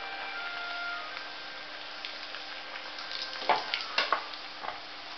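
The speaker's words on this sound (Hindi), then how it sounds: "अब एक एक करके सबको तल लेंगे।" Khasta poori deep-frying in hot oil, a steady soft sizzle and bubbling with a low mains hum underneath and a few brief clinks near the end.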